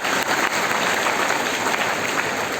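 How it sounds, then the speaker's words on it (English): Steady applause from a crowd for dancers at an Independence Day celebration, dense clapping filling the whole moment without pause. "Let us give them a round of applause for all the dancers."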